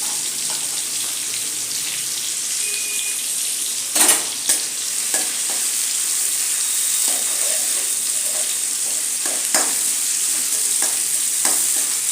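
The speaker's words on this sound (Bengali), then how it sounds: "আমি পেঁয়াজগুলো দিয়ে দেবো ভাজার জন্য" Onions frying in a hot pan for an egg and cabbage dish, giving a steady, even sizzle with a few sharp stirring knocks and clicks.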